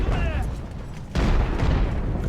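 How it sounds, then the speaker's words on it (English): Age of Sail naval battle game cannon fire: a deep boom lands midway and its heavy rumble carries on, after a quieter stretch of battle ambience with a faint mechanical whistle at the start. "Good elevation with the cannon."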